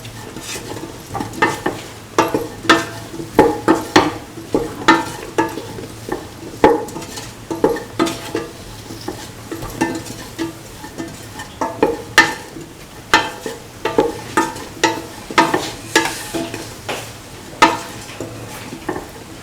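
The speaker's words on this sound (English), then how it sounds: "Mix the garam masala or mixture spices with the rest of the mixture." Garam masala being stirred into a frying mix of mung beans, ivy gourd and rice in a pan: close, steady scraping strokes in a quick rhythm over a constant sizzle, with no talking.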